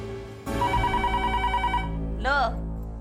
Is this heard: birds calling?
no